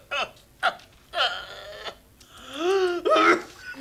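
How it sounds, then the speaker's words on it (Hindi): Two people coughing in a home setting, a few short harsh coughs followed by a longer strained, wheezing cough, fairly close and moderately loud with no talk over it. "ऐसा लग रहा है जैसे तुम दोनों में तो खांसी की कंपटीशन चल रही हो।"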